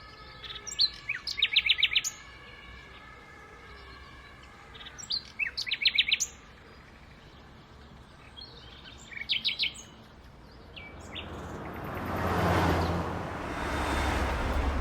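Several short bursts of nightingale song ring out in Berlin, the tight trilled phrases coming in clusters with pauses between, over a steady city hum that swells into louder traffic noise toward the end.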